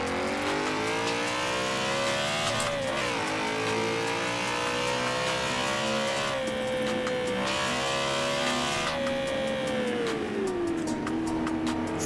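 A BMW E92 M3 engine in Forza Horizon 4 screams steadily at high revs, rising and falling through gear changes, loud and close throughout with no talking.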